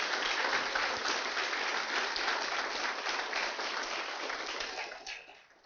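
Sustained applause from an audience at a hackathon event, steady and fairly distant, tapering off near the end with no talk over it.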